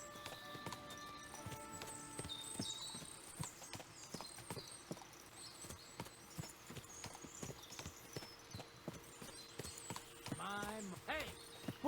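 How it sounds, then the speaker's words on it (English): Many horses' hooves clip-clop steadily at a walking pace in Kingdom Come Deliverance 2, with a horse whinnying near the end amid soft background chatter. "What a lot of horses!"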